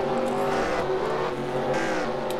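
Race cars in a racing video game at Circuit ICAR roar past with steady, loud engine whine, several cars overlapping and rising and falling in pitch as they drive around the track.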